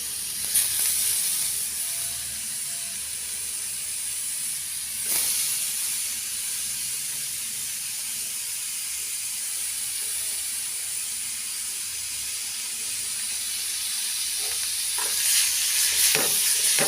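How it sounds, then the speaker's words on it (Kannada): Radish frying with browned onions in a pan gives a steady, even sizzle and hiss that lasts throughout, with a few brief stirring scrapes; no voices. "ಈರುಳ್ಳಿ ಕೆಂಪಗಾದ ಮೇಲೆ ಅದಕ್ಕೆ ಮೂಲಂಗಿ ಹಾಕಿ ಫ್ರೈ ಮಾಡೋಣ"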